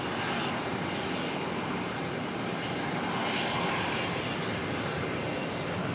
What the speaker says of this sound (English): Z534 arrival from Christchurch.